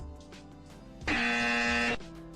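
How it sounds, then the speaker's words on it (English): A harsh, flat incorrect-answer buzzer blares for about a second over a quiet musical background. "That's the incorrect buzzer for you, Neuro."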